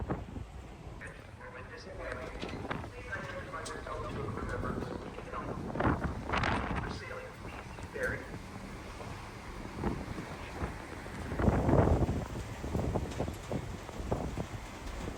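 Wind blowing across the outer deck of a BC Ferries C-Class ferry, a steady rushing roar that buffets the microphone and swells in gusts, with a voice speaking briefly over it.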